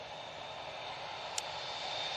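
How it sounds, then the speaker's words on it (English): An Emirates A380 jet airliner's engines give a steady, faint, broad roar from a distance, with a brief sharp click midway. "EK22, going back to Dubai using the epic Emirates A380."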